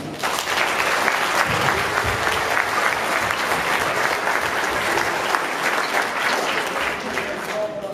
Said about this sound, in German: Dafür können wir mal klatschen.